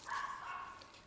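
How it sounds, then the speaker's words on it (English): Small dogs bark in a residential landed-property neighbourhood, a faint, distant, continuous yapping that carries through the whole moment. "In the landed you hear a lot of dogs also."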